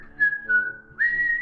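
A person whistles a short wavering tune of three sustained tones, close and clear against a quiet background, with no talking.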